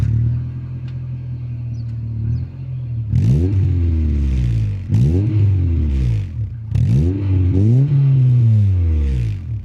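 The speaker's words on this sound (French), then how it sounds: "vous allez entendre que le pot Max Speed" A Honda Civic Type S with a Max Speed aftermarket exhaust idles steadily, then revs hard three or four times, each rev rising and falling in a loud, close, raspy engine roar.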